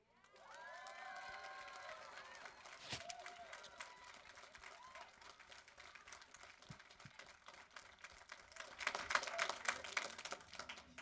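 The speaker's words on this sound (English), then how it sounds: "I don't know if you could see and hear that applause" An audience at a Board of Education meeting claps and cheers, heard faint and distant, swelling into a busier burst toward the end after a short voice at the start.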